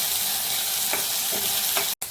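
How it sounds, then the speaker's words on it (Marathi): Okra sautéing in a kadhai gives a loud, continuous sizzle, with a few stirring scrapes and a brief break near the end. "आता भेंडी ना परतून झाली तुम्ही बघू शकता"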